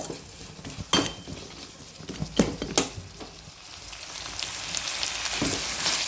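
Thick tomatoes cooking in a pan over medium heat give a continuous soft sizzle, with a few clanks and scrapes from a utensil against the pan and the bubbling growing slightly louder toward the end.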